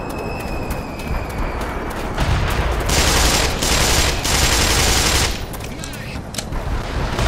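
Continuous heavy rumbling and crackling from bombs exploding in the shooter game Black Mesa, a dense loud barrage of blasts and debris noise that swells in the middle and continues without pause.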